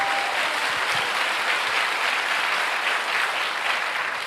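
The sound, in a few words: applause in church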